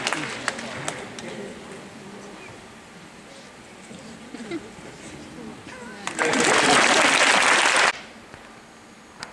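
An audience at a Monty Roberts horse-training demonstration in Helsinki breaks into a short burst of applause, a loud dense clapping wash lasting about two seconds near the end, after quieter moments with scattered sounds.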